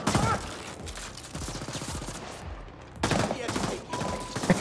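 A hand cannon fires in the video game The Ascent, heavy booming shots and rapid bursts of gunfire mixed with game sound effects, loud and close.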